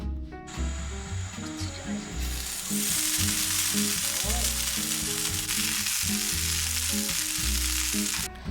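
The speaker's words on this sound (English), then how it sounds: "Heat up the non-stick pan, place onigiri we made the night before." Leftover rice onigiri frying in a hot non-stick pan with soy sauce and sesame oil, a loud continuous sizzle that swells after a few seconds, close up under faint music with no talk.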